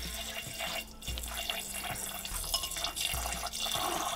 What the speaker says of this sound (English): So to that we're going to add 89 gram of distilled water.